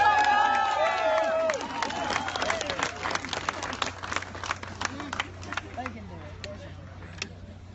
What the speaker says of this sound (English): How about a round of applause for all our contestants?